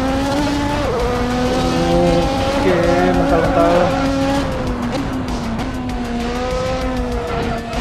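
An LMP race car on slick tires in a racing video game, engine revving and rising in pitch through gear changes while tires squeal and skid on a dirt road, with someone talking over it.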